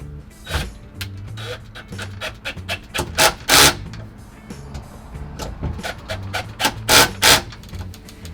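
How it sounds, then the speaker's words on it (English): Bolts are tightened while a Nest door lock is installed on a door, with bursts of close mechanical whirring and rasping separated by short pauses. "So now I can just tighten up those bolts."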